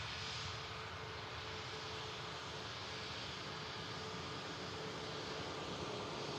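A Lufthansa City airliner arriving at Manchester Airport from Munich, its jet roar a steady, broad rush that holds at an even level throughout without any voices.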